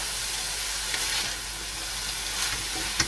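Pork cubes and mixed stir-fry vegetables sautéing for fresh lumpia, giving a continuous steady sizzle and hiss with a few soft clinks of a utensil against the pan.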